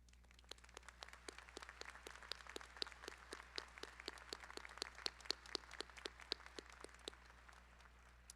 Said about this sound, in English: I invite all faculty here to stand so that we may applaud you